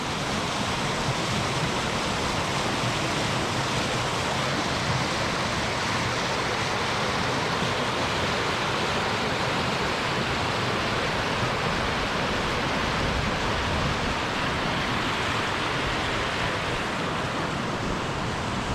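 Steady, loud roar of a fast-flowing Scottish river, a continuous wash of rushing water with no breaks or other sounds.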